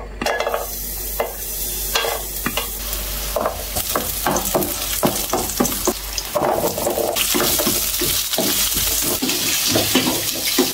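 Aromatics sizzling in hot oil as they are stirred for a mung bean stew with sardines and fresh garden vegetables, a steady loud frying hiss broken by scraping stirs and occasional clatter.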